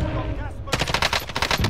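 Rapid video game gunfire bursts in quick succession during an online shooter match, loud and dense after a brief quieter lead-in, with faint voices underneath.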